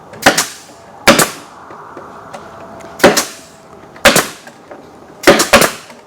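A staple gun drives quarter-inch crown staples, 1 inch long, into wooden bee pallets and lids outdoors, firing six loud, sharp close shots at irregular intervals with quiet pauses between.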